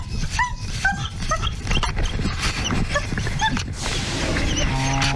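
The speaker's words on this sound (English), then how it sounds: "that particular dog has severe separation anxiety" An anxious dog with severe separation anxiety, filmed on a GoPro, whimpers in repeated high, thin whines and short yips, close and fairly loud over steady background noise.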